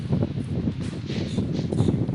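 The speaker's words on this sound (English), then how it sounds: "And it is really windy." Gusty wind buffets the microphone outdoors by a Solo Stove fire pit, with a low, rumbling roar that swells and fades, accompanied by faint rustling.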